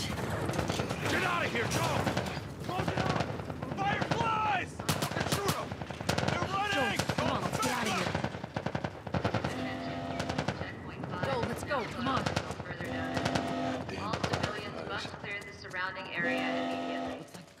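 In The Last of Us Part I video game, gunfire erupts in loud, rapid machine-gun bursts and fusillades through the first half, then continues in sparser shots beneath shouting voices and tonal game sounds.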